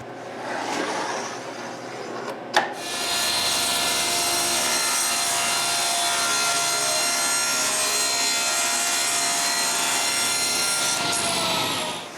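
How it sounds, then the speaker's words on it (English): Solid pine board being cut to length for a pantry in a woodworking shop, with a brief handling knock, then a loud, steady power-saw whine sustained for about eight seconds before stopping. "When it's in place, I trace the final length and cut it."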